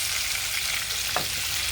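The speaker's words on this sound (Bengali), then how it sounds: "সবগুলো মাছ আমি উল্টাই দিছি হালকা ওই পাশে ভেজে আমি উঠাই নিব" Prawns fry in hot oil in a pan, giving a steady, close bubbling sizzle throughout, with a brief louder hiss near the end as a piece is likely turned or lifted.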